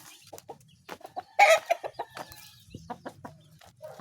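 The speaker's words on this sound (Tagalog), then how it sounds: "Tapang talaga itong broodcock natin." A broodcock chicken clucks close by in short, uneven bursts, with one louder squawk in the middle and softer murmuring clucks around it.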